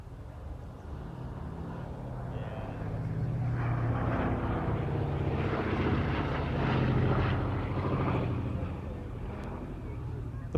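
A Boeing B-17 bomber with its piston engines and propellers droning steadily overhead at an RAF Waddington airshow, swelling louder through the middle of the flypast before easing slightly, with a voice talking over it.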